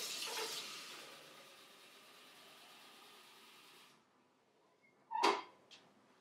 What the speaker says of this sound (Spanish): Coge el depósito de agua y llénalo con agua fría.